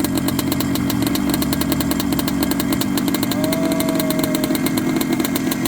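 A vintage two-stroke motorcycle engine, freshly started after sitting in a barn, runs steadily nearby with a buzzing, rapid-firing drone and a constant loud level throughout.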